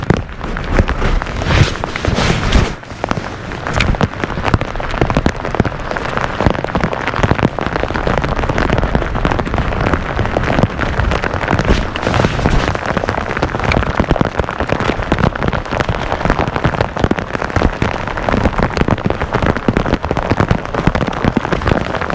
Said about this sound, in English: A little rain, no problem.